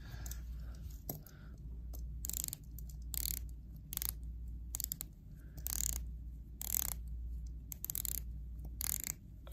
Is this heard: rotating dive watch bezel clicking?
yes